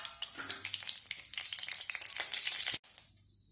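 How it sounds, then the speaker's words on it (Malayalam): Mustard seeds crackle and sizzle in two tablespoons of hot oil while a carrot and bean thoran is cooked, a busy close spatter of pops with a brief gap near the end. "രണ്ട് ടേബിൾ സ്പൂൺ എണ്ണ ഒഴിച്ചു കൊടുക്കുക. അതിലേക്ക് നമുക്ക് ഈ കടുക് ഇട്ട് കൊടുക്കാം."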